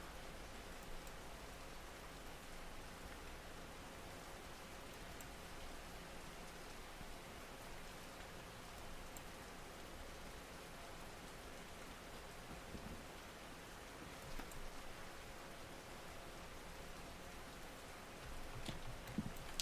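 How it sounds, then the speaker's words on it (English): Heavy rain falls at night in the Russian Fishing 4 fishing game, a steady, soft, even hiss that runs unbroken throughout, with no voices. "now we've got some heavy rain here at night"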